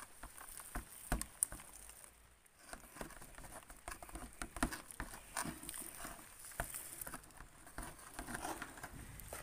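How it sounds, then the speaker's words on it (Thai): Rain patters outdoors in soft, irregular taps and drips, faint and scattered over about ten seconds without voices. "ฝนมาแล้ว"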